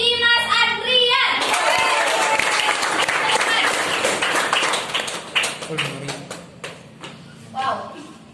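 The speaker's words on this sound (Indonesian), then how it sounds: "Kita kasih aplaus untuk Dimas Adrian." An audience at a corporate celebration applauds for Dimas Adrian, a burst of clapping that rises after a host's voice, holds as a dense crowd wash, then thins into scattered claps with talk returning.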